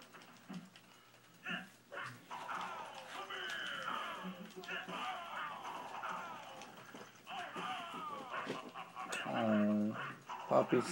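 A sleepy puppy pants and whimpers softly with thin, rising whines, mixed in with ongoing conversation and background game sounds.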